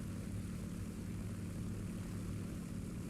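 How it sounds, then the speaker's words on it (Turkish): Japanese A6M5 aircraft engine in the War Thunder game, a steady droning propeller roar with even broadband rush, constant and loud throughout with no talk. "Bir Japon uçağı geliyor aşağıda A6M5."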